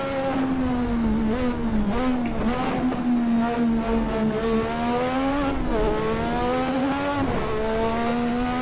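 A 98 race car engine in the Assetto Corsa driving game holds a loud, steady high-revving drone, with pitch dipping and climbing through gear changes over several seconds, with no talking.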